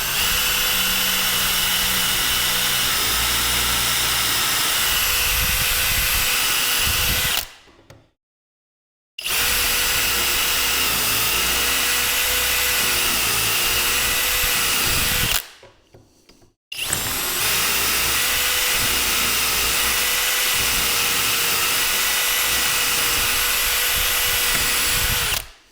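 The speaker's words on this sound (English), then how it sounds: "Oops, I must try to drill these out." A power drill boring out wooden dowels while building an in-wall cabinet, running loud and steady in three long bursts separated by two short pauses.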